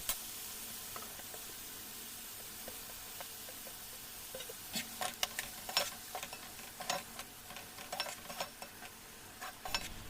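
Half-boiled carrots and beans frying in oil with chili powder, giving a soft steady sizzle with scattered stirring clicks and scrapes that get busier in the second half; no one speaks.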